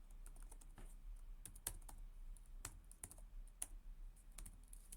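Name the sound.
typing a command on a computer keyboard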